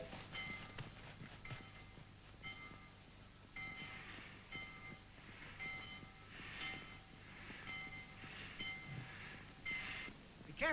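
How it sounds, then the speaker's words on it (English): A westbound passenger train departs in a 1929 talkie, its cars rumbling and clattering with repeated horn or whistle blasts over the steady rolling noise, heard alone without talk. "Westbound train? That's going out over there now."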